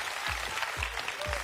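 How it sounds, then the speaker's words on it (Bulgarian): A studio audience applauds on a Bulgarian celebrity impersonation TV show, a short, even burst of clapping with no talk over it. "Аплодисменти за Поли."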